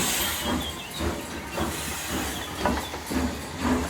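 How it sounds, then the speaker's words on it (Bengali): A local train pulls in, giving a steady broadband hiss and rumble with soft rhythmic surges that stay fairly close and even throughout. "কিছুক্ষণ পরেই ট্রেন এলো।"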